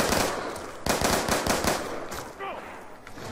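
Rapid bursts of M-Tar assault rifle fire in a zombies video game, loud and close, several quick volleys in succession with a brief pause, game sounds underneath.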